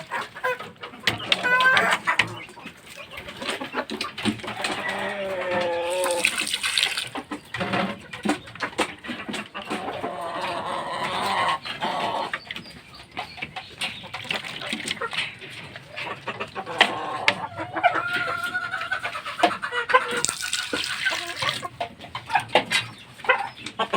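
Chicks and fighting-breed chickens peep and cluck steadily while water is set out for them, with a rooster crowing and a dense, close flock chatter throughout.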